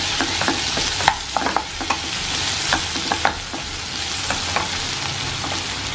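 Chopped tomatoes frying in a pan, with a steady sizzle throughout and a series of sharp, irregular scraping taps from stirring, close and clear, with no voices.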